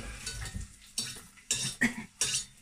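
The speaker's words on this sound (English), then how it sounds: "they're just sizzling away nicely" Onions sizzling in a frying pan for a budget one-pot chicken curry, heard as bursts of crackling fry broken by the clink and scrape of stirring against the pan, close and moderately loud.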